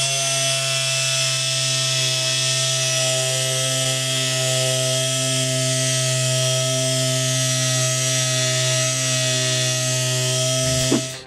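An eccentric orbital sander with a 2.5 mm stroke wet-sands a car headlight at 1000 grit, giving a steady, loud, continuous electric whir with a constant pitch that ends abruptly.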